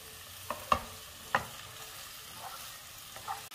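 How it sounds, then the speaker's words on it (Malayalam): Quail egg roast with onion masala stirred in a pan gives a soft low sizzle with a few sharp spoon clinks and scrapes, quiet and close, with no speech. "ഇനി ഇതെല്ലാം കൂടെ ഒന്ന് മിക്സ് ചെയ്യാം."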